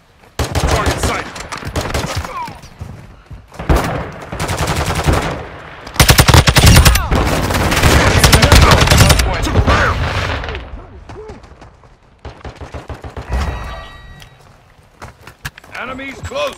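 Automatic and single gunshots from Call of Duty Mobile multiplayer, heard in loud repeated bursts and sustained fire with footsteps and effects, under the game's voice callouts.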